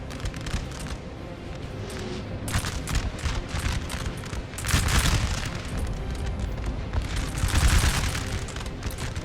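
Artillery strikes boom repeatedly across a Napoleon: Total War battlefield against an Austrian line, heavy explosive thuds swelling twice amid a steady rumble of distant fire, with no voices.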